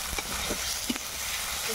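Cumin paste frying in a pan with ginger, garlic and onion: a steady, soft sizzle with a few faint stirring scrapes, quiet and continuous.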